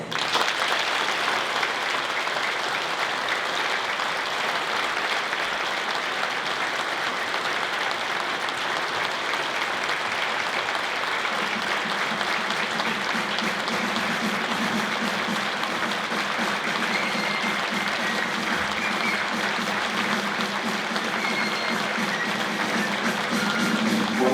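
Sustained applause from a concert audience greeting the Croatian Navy klapa choir Sveti Juraj in Blato, a dense steady clapping that fills the whole stretch, with a faint low hum entering partway through.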